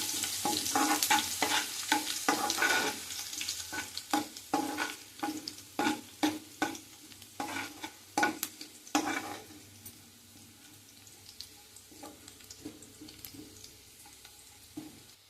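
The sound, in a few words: garlic and crushed cumin frying in a pan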